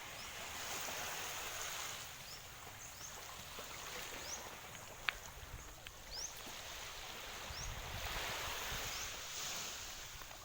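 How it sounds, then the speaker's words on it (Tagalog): Sea surf washes steadily along a provincial shoreline where fishing boats are moored, a faint, continuous wash of waves with wind noise and occasional soft thumps in the background. "Ayan po yung dagat."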